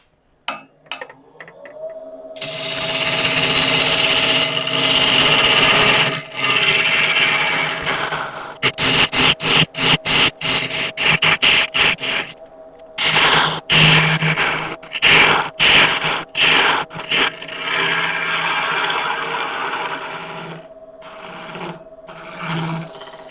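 A carbide tool turns a tenon on a large elm blank on a wood lathe, starting with a motor hum, then loud sustained scraping with rough, choppy bursts as the cutter catches and releases the wood.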